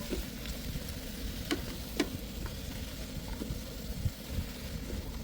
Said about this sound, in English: Now I will saute them, probably 3, 4, 5 minutes.